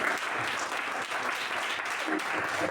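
Church congregation clapping and cheering, a dense steady wash of applause lasting throughout, fairly distant and even in level.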